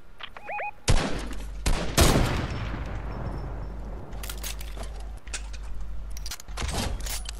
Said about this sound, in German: Und schieße.